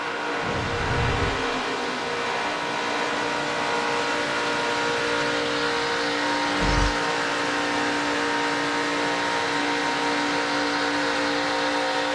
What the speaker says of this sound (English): You don't hear him back off the throttle much, do you?